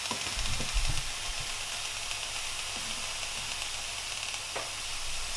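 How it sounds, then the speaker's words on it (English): Ginger and garlic sizzle softly in a hot pan, a faint continuous hiss of frying with a few low clunks near the start and no one talking. "I'm adding the ginger and garlic in there."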